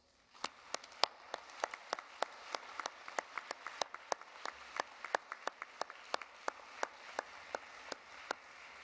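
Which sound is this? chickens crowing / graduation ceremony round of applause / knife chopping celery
graduation ceremony round of applause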